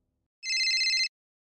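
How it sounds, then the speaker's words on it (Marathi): A single short electronic phone ring, a bright trilling burst under a second long, sounds alone in an otherwise silent room. "मॅडमचा फोन."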